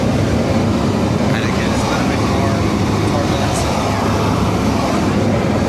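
Steady, loud cabin roar of a small charter aircraft flying through clouds on approach to Colombo, an unbroken low drone with faint rattles and a voice speaking underneath.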